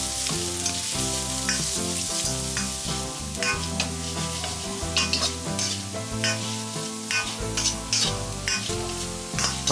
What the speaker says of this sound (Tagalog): Ilagay na natin ang patatas sa mainit na mantika.